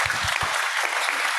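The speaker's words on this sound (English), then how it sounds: "So a big round of applause to everybody," Symposium audience applauding, a dense, steady wash of clapping from a crowd filling the room, loud and continuous throughout.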